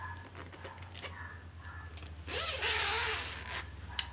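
A zipper on a carrying case for a 52-inch 5-in-1 reflector is pulled open in one long rasping stroke, preceded by light handling rustles.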